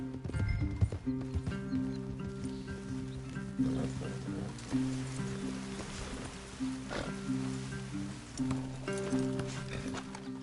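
Horses' hooves clop steadily in Red Dead Redemption 2, a fairly close, moderate rhythmic trot with game music or ambience underneath and no talk.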